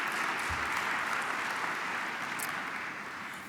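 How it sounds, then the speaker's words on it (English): A conference audience applauds the medical residents, dense, even clapping from a large crowd that carries steadily throughout and tapers slightly at the end. "please give them a round of applause"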